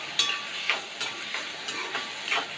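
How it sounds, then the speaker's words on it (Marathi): Soft, steady sizzling of green peas frying in oil with onions, with faint periodic stirring clicks. "ते पण चांगले फ्राय करून घेणार आहे तेलामध्ये"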